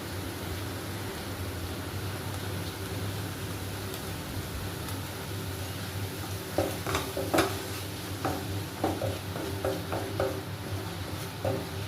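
Masala powder, turmeric and chili powder fry in a pan for green peas kurma, a steady low sizzle joined midway by a run of close, sharp stirring scrapes and knocks.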